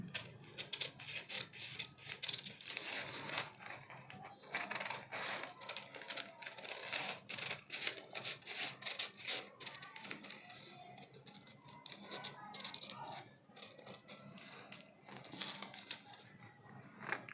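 Scissors snip through paper while hand shapes are cut out for a craft piece, making quiet, close crisp cuts and rustles in uneven bursts with brief pauses between.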